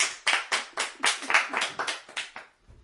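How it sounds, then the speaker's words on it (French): One person claps alone at steady speed, about a dozen sharp close hand claps in a quick even rhythm, stopping abruptly with a faint low rumble after. "Bravo, je m'auto-applaudis."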